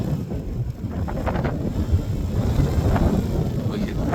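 Steady outdoor wind, gusting to about 17 mph, buffets a microphone beside a 10-foot wind turbine under test, a constant low rumble with gusty swells and no other clear sounds.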